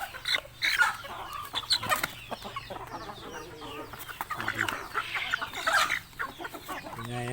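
Chickens cluck repeatedly on a farm, busy overlapping calls rising and falling close by, with bursts of louder clucking and faint background noise, no talk.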